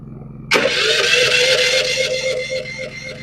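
A small engine is push-button electric started with no choke for hurricane preparation, the starter kicking in abruptly and grinding steadily for several seconds, loud and close with no talk.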